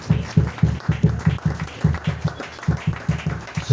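A church congregation claps in a steady, even rhythm, about four claps per second, close and full throughout, acclaiming the word of God.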